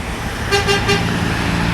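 Three quick toots of an NPM bus horn, evenly spaced and bright, rising over a low idling engine and road traffic rumble in congested street traffic.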